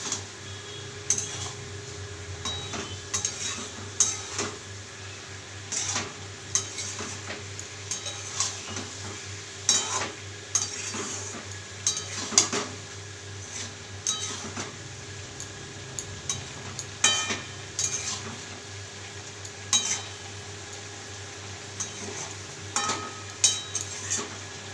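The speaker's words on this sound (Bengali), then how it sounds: "দিয়ে এটাকে নেড়ে নেবো আবার একটু" A potato and prawn curry with garam masala powder is stirred in a pan, with repeated spoon scrapes and taps over a low simmering bubble and no talking.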